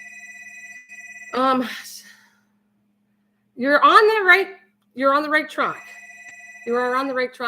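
A telephone rings in a home with steady electronic tones, sounding near and moderately loud before and between stretches of someone talking.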